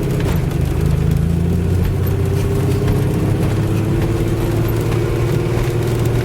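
A car fitted with a homemade exhaust built from a turbo drives around the block, its engine giving a steady, loud droning hum with little change in pitch; no voices.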